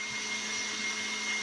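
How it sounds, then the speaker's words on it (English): An electric kitchen mixer whirs steadily, beating waffle batter made from scratch, a constant close motor hum with no change in pitch. "I guess y'all can hear me over this mixer."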